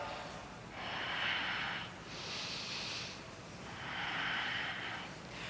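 Three long, deep breaths drawn through a yoga flow, each a broad airy rush swelling and fading, steady and fairly close with no talking over them.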